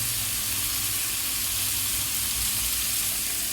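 Steady, loud sizzling of drumstick pieces frying in a pan as red capsicum pieces go in for a tomato curry, a constant hiss with no breaks.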